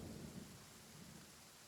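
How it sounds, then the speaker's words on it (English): Rain and a low thunder rumble from stormy weather in the video game Genshin Impact, a soft steady wash with a heavier roll at the start, fading slightly, with no voices. "Of course there's thunder and lightning today."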